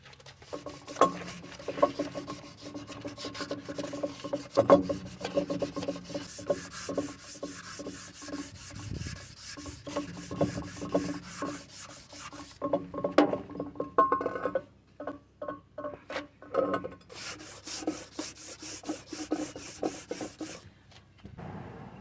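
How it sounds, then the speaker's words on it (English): 400-grit sandpaper rubs back and forth against a surface in steady rhythmic strokes, close and clear, with brief pauses between bursts of scraping. "this sandpaper here is 400 grit"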